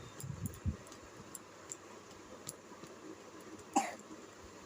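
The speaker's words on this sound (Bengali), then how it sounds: "কাশি উঠছে?" A small child coughs indoors, with a few brief, soft coughs spread across a quiet room with low background hum, the last one the loudest.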